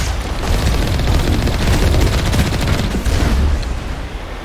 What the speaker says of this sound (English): Those are slow moving missiles.